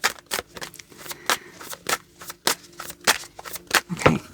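A deck of cards is shuffled in a steady run of about a dozen crisp, close riffling bursts at an even rhythm, with no talking over it.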